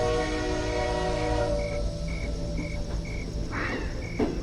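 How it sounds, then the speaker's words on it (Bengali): A train horn sounds in a series of short repeated blasts over the low, steady rumble of rolling wheels as the train starts moving again, with a brief clatter near the end. "সুতীব্র স্বরে হর্ন বাজিয়ে আবার গড়াতে শুরু করলো ট্রেনের চাকা"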